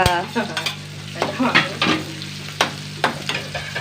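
Chilli flakes and curry leaves sizzling in hot oil for a curry, a loud close crackle broken by a series of sharp spoon scrapes and stirs against the pan, with no talk.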